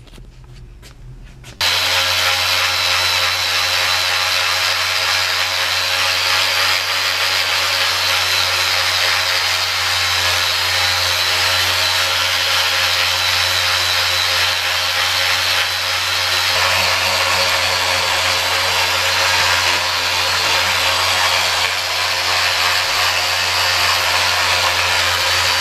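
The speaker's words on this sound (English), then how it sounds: "First I'm going to take the power sander and try to get some of this off." Power sander works on casting flaws of a motorcycle rear wheel during a restoration: after a short quiet start, the tool kicks in with a loud, steady whine and grinding that runs unbroken to the end.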